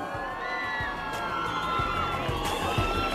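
A crowd at an international taekwondo tournament in Bogotá cheers a bronze medalist. Children shout and whoop among the spectators, and the sustained noise stays steady and fairly loud throughout.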